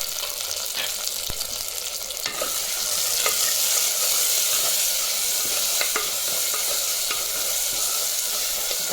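Tomato, onion and curry leaves sautéing in a pan for sambar, a steady bright sizzle throughout, with scattered scrapes and knocks of a spoon stirring, close and without talk.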